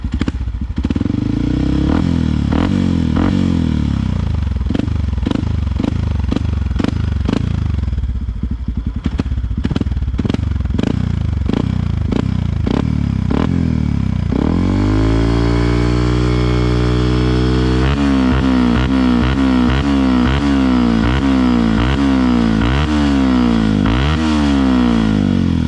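A modified Yamaha WR155R supermoto with an upgraded exhaust runs very loud and close, idling with a rapid throb before sharp blips, then revving hard with rising and falling engine pitch.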